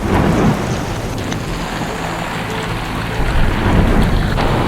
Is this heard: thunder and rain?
yes